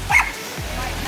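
Small dogs barking and yipping near hikers on the Appalachian Trail, a few quick sharp barks close by, with people talking over them.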